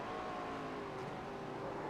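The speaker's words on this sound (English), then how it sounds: "Oh, downshifted one too many times, too many revs. Spun up the tires and around he went." A race car at Kentucky in a GNS series race over-revs after a downshift and spins out, its engine a continuous loud, rough roar throughout.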